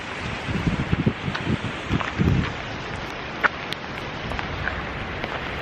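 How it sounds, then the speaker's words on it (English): Stormy Canadian weather outside, with steady wind buffeting and rain pattering on surfaces, a few louder gusts and drops standing out near the start and middle. "It's always rainy and windy."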